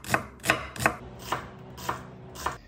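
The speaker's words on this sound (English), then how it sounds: "This is how you cut an onion perfectly every single time." A knife slicing through an onion on a cutting board, six crisp, evenly spaced chops about half a second apart, close and clean with nothing else heard.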